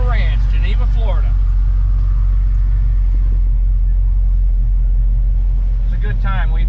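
Car cruising out of the Horsepower Ranch car show venue in Geneva, Florida, a steady loud engine and road rumble heard from inside, with people talking over it at the start and end.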